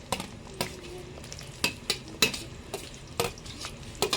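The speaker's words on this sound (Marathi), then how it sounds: "त्याच्यानंतर आपण आता टाकणार आहोत कांदा कांदा पूर्णपणे त्याच्यामध्ये टाकून घेऊया" Onion added to masala frying in a pan for a traditional village-style chicken fry, heard as a soft sizzle with repeated scraping and clinking of a spatula on the pan in an irregular rhythm.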